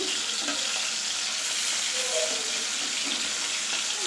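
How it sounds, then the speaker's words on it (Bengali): Fish frying in hot oil gives an even, unbroken hiss with faint bubbling, close and steady throughout. "এখানে এই যে আমি মাছটা ভেজে নিচ্ছি"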